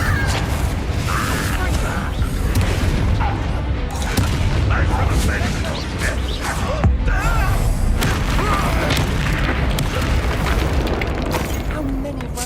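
Confringo blasting spells exploding in the video game Hogwarts Legacy, a loud, dense run of booms and bursts that blur into a continuous rumble of battle noise over the whole stretch.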